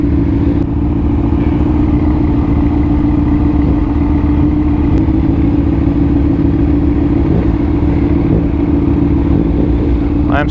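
A motorcycle engine runs steadily and loud throughout, with a constant low drone while riding among passing traffic.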